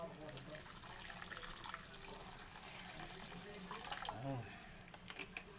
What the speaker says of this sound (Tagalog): At lagyan po natin siya ng tubig.